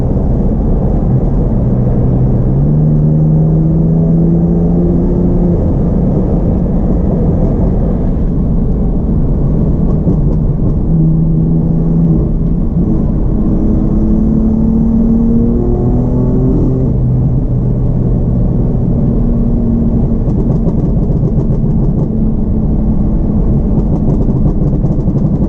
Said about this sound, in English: Gear, downshift to third.